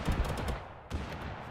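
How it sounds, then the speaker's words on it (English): Rapid popping bursts of a confetti gun firing in the Totally Accurate Battlegrounds video game, a loud sputtering string of shots with a brief pause midway before the firing resumes. "Why am I firing confetti?"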